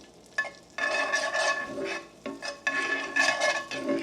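A tablespoon of minced garlic hitting a hot cast iron pan, crackling and sizzling in surges that rise, fade and flare again, close up with no talking.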